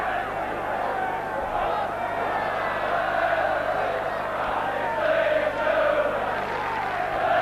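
Football crowd at a 1982 Barnsley v Leeds United match, with Leeds fans singing behind the goal; a steady, distant roar of massed voices fills the clip, and a commentator talks over it throughout.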